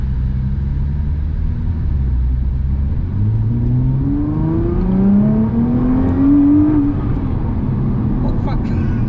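A turbocharged Nissan R35 GT-R engine revs hard and accelerates, its pitch climbing steadily over several seconds with a turbo whine rising above the roar, loud and close.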